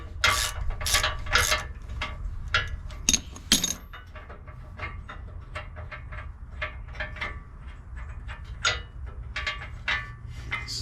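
A 19 mm bolt being tightened into a leveling key on a Silverado with a ratchet wrench, giving repeated close, sharp metallic clicks in uneven bursts.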